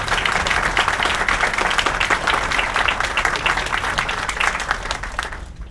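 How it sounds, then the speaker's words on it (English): An audience at a celebration marking the inaugural non-stop Singapore to San Francisco flight claps in a dense, sustained round of applause that stays loud throughout before tapering off at the very end. "So give that a round of applause as well."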